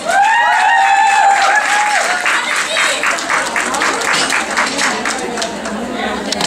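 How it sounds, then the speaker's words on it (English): Applause at a Women's Day event, dense clapping that swells and keeps going under voices, with a few sustained tones sounding near the start. "with a round of applause."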